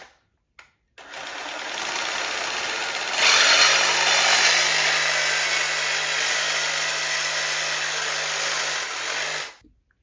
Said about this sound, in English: portable bandsaw.